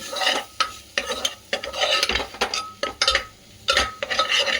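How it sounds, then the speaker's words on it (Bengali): Chicken keema with chickpeas and chana masala being stirred in a pan, a spatula scraping and clinking in repeated strokes over a light sizzle, close and fairly loud with no talking. "এবার একটুখানি এটাকে আবার কষিয়ে নেব"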